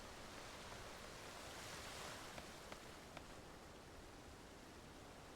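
Flowing water in the online video game Final Fantasy XIV, running along a channel past water wheels: a broad, steady rushing wash at low level with a few faint clicks, with no talking.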